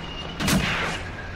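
A single dull boom from a Panzer II tank's 2 cm gun in a World War II tactics video game, a muffled, fairly distant report that lingers briefly over low ambient noise.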